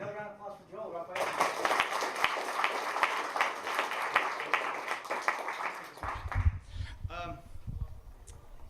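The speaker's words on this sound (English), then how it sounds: "Another round of applause for Joel, Raphael." An audience at an author's talk gives a round of applause, with dense continuous clapping that lasts several seconds before fading out as a speaker resumes talking.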